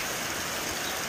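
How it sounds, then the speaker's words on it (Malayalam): Heavy rain pours down steadily in a dense even hiss, close and constant, with no other sounds or voices. "ഇവിടെ ഇപ്പോഴും നല്ല മഴയാട്ടോ"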